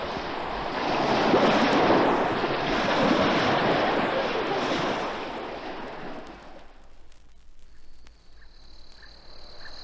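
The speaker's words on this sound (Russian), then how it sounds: "Вы слышите, как накатывают волны на берег." Ocean waves rolling onto the shore on the New Guinea coast, a broad continuous rushing surf that swells and then fades, leaving quieter tropical ambience with faint insect chirps.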